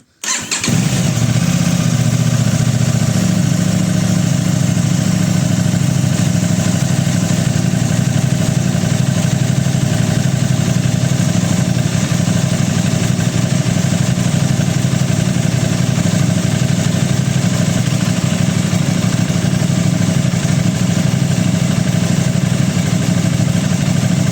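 An Aprilia RS660 motorcycle engine cranks and catches with a sharp burst, then settles into a loud, steady, close idle that holds evenly for over twenty seconds without talk.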